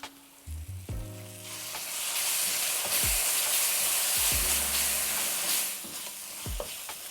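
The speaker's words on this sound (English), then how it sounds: "you can stir in cumin seeds and a tablespoon of yoghurt" Cumin seeds and a spoonful of yoghurt sizzle loudly in a hot pan, a steady bright frying hiss that swells after the first second, with a few utensil clinks and stirring scrapes.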